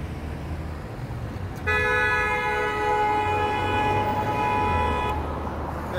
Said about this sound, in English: What the hell is this guy honking for?